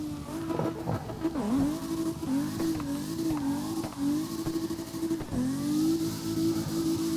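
Car drifting on Kami Road in a video game, a steady revving engine whose pitch wobbles and dips with repeated brief tyre squeals and chirps, moderately quiet, no talk.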